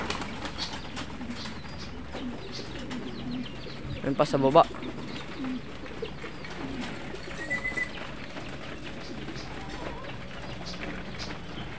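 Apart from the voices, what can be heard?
racing pigeons cooing and flapping in a loft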